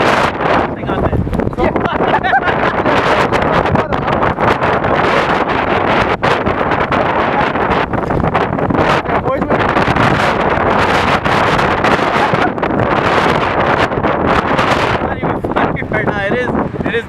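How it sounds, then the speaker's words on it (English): Strong gusting wind from Hurricane Sandy in 2012 roars across an open street, with heavy, continuous wind buffeting on the microphone throughout and people talking and shouting faintly underneath. "It is that mad windy."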